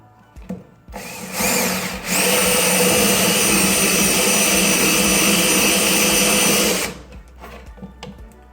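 Drill fitted with a countersink bit bores a screw hole, starting with a brief burst, then a loud, sustained high whine for about five seconds before stopping, close up.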